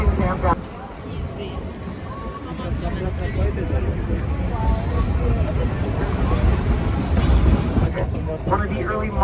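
A Colorado tourist train rolls along its tracks with a continuous heavy rumble and rattle, while a guide's amplified voice and passenger chatter carry over the noise throughout.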